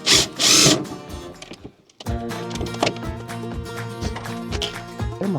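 A power drill works on a stuck screw during the teardown of an Avant loader. There is a loud high whine first, then a short pause. A steady, strained grinding drill tone follows, with uneven knocks and catches, close up.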